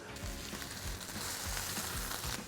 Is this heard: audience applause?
no